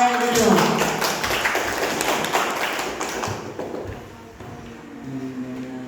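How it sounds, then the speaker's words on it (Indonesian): Classroom applause for a pupil named Aurel, a burst of many hands clapping together, loudest at the start and fading over several seconds, with a voice speaking near the end. "Kasih aplaus untuk Aurel dulu"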